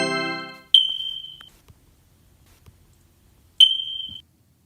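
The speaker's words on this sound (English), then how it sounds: "It was a smoke detector with the battery test." A household smoke detector running its battery test: two separate loud, shrill electronic beeps about three seconds apart, each holding a steady tone for roughly half a second, with near silence between them.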